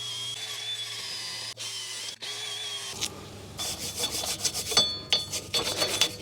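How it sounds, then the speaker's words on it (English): A wire wheel scrubs rust off the front brake hub of a 2014 Mazda 3, starting after a whirring spin-up and giving a close, harsh, uneven rasping that comes in pulses, with no talk. "Now we're going to clean this hub with a wire wheel before we put the new rotor on."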